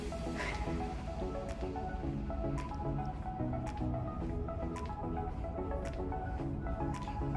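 Indoor swimming pool ambience at a YMCA, a steady wash of echoing water and splashing with occasional sharp drips and clicks, constant and fairly loud throughout.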